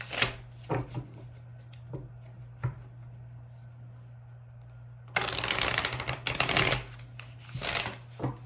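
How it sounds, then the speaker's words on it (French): Tarot cards being shuffled close by: soft scattered taps and slides early on, then a dense riffling burst lasting about two seconds, followed by a few more brisk flicks, with no talking over a low steady hum. "Je vais aller clarifier les cartes principales"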